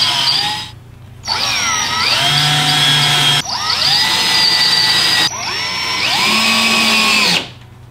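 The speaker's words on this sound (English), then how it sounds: "And we had to drill the extra holes" Power drill drilling extra holes for a wall-mounted tablet mount, several loud sustained whines that rise in pitch as the motor spins up, separated by brief pauses, close up.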